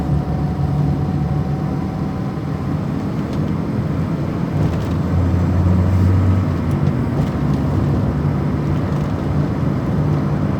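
A Peugeot 205 on the move at road speed, with a steady, loud cabin drone of engine, road and wind noise that holds evenly throughout and rises slightly midway.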